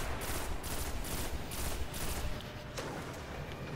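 Sustained rapid gunfire from the sci-fi shooter Destiny, a dense, loud barrage of overlapping shots with steady rhythmic bursts continuing throughout, no talking over it.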